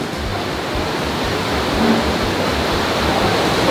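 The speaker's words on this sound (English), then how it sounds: "So that is Mystic River Falls" Mystic River Falls, a waterfall at Silver Dollar City theme park, pours in a steady, loud, dense rush of falling water that holds constant with no talk over it.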